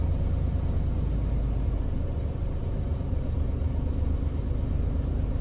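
Truck diesel engine held steady at about 1,000 RPM while its air compressor builds pressure, a constant low rumbling drone close by with no change in speed and no talking.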